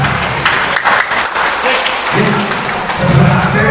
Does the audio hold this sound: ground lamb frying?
no